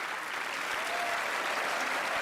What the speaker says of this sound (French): Veuillez les applaudir s'il vous plaît.